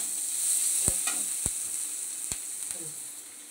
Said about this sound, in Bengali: তেলের মধ্যে পেঁয়াজ আর কালো জিরা ফোড়ন দিয়ে দিয়েছি